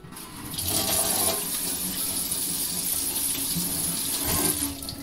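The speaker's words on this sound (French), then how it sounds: "Je vais laver mes mains." Hands being washed under a running kitchen tap, a steady close rush of water splashing into a sink for several seconds before it cuts off, with no talking.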